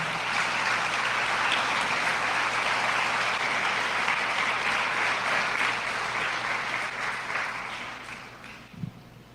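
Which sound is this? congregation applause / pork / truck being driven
congregation applause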